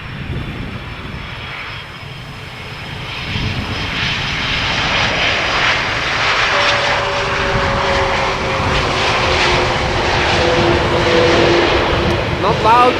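A Delta jet airliner roars steadily overhead while landing at Amsterdam Schiphol Airport, its engine noise building and holding loud, with faint voices underneath.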